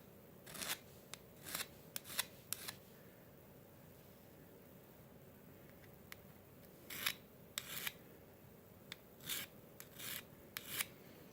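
Quiet rasping strokes of a chainsaw file on a forged knife's metal come in short bursts, a few quick scrapes at a time, separated by pauses.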